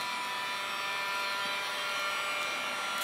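A heat gun runs continuously while heating material for DIY raft fly rod holders, giving a steady blowing whir with a faint whine, close and unchanging, with no talk.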